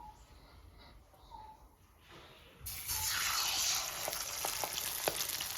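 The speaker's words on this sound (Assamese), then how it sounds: "মই এইখিনি ধুনীয়াকৈ ক্ৰিস্পি ফ্ৰাই কৰি ল'ম" Quiet kitchen noise gives way to a sudden loud sizzle as brinjal hits hot oil in a wok, then steady frying with occasional pops.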